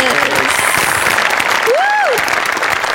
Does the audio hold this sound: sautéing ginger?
no